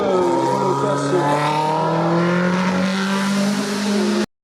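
A Caterham race car engine revs hard and loud at a French hillclimb, its pitch climbing and holding in a strained howl for several seconds before cutting off abruptly.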